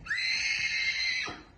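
A one-and-a-half-year-old horse, offspring of a stallion from Abakan, gives a single loud, close whinny lasting over a second with a falling end, heard alone without talk.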